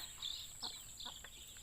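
Chicks and ducklings chirp and peep in thin, high calls, a few brief soft cheeps over a faint steady background, near but quiet.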